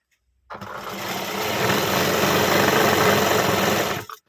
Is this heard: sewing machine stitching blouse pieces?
yes